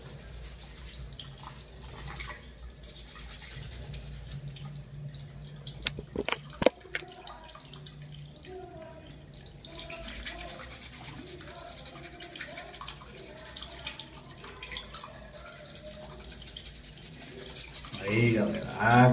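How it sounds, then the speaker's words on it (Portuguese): Tap water runs steadily over a phone being washed under a sink faucet, a continuous splashing stream with a few brief louder knocks midway, while someone talks over it. "Vamos lavar, água corrente"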